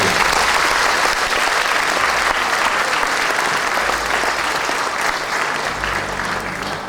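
Audience applause at a dance theatre's anniversary concert, a dense, even wash of clapping from a large hall that holds steady throughout and tapers slightly at the end.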